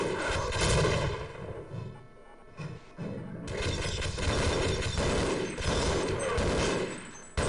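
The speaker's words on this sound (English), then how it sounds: "That's a grenade." A grenade blast amid a firefight between human soldiers and alien soldiers in Half-Life, with dense overlapping gunfire, booms and clattering impacts, loud and continuous apart from a brief lull near the middle.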